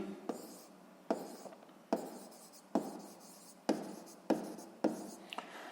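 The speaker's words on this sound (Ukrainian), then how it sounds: "Отже, записуємо тоді, що пишемо обчислення." A pen scratching calculations onto paper in short bursts, about seven separate strokes and scribbles spaced roughly a second apart, close and quiet in a still room.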